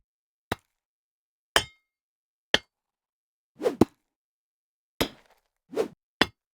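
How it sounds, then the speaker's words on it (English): Eight sharp, isolated impacts of a hammer striking dirt in a sound-effects impacter rig, spaced irregularly over several seconds, each a short dull thud with a brief gritty tail, nothing else audible. "So that's the hammer element hitting, there's dirt in the center."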